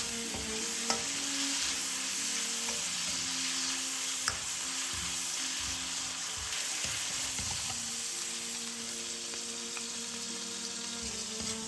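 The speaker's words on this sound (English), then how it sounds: "Add the remaining 1/3 scallions. Mix for another 5 seconds." Scallions and pork belly stir-frying in a wok, a steady broadband sizzle with scraping stirs and a few sharp utensil clicks throughout, no voices.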